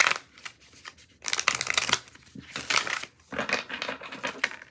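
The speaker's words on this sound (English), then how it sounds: "I would shuffle as I expect, pretty stiff on the first one." A brand-new, stiff Spirit Animal Oracle card deck being shuffled by hand, giving several bursts of crisp riffling and flapping card noise separated by short pauses, close and fairly loud, with no talking.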